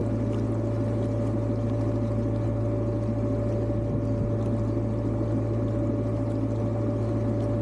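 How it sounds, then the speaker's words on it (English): A narrowboat engine chugs with a steady low drone and hum, continuous and close, with no voices, as the boat passes under a bridge on the North Oxford Canal. "the boat passes under them"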